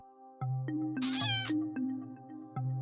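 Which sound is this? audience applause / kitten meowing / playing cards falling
kitten meowing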